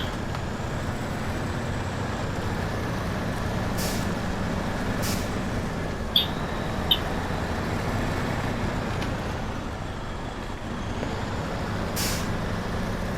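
Two P16 trucks labor over rough off-road terrain at night, a continuous low engine drone with intermittent hissing bursts and occasional clanks, heard steadily from nearby.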